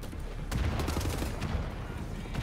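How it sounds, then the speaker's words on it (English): Sustained gunfire in the shooter Wolfenstein: The New Order, a dense, loud rattle of rapid shots running continuously with no pauses. "is that them shooting their own guys?"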